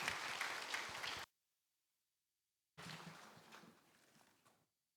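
Congregation applause welcoming people during a Sunday church service, two bursts of clapping separated by a silent gap, the first louder and brighter, the second fading out gradually.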